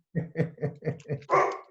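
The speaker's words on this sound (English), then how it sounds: "Oh, he's barking at the mailman." A single dog barks at a mail carrier indoors, a quick run of about five sharp, close barks in steady rhythm, the last one longer and rougher, with no talk over it.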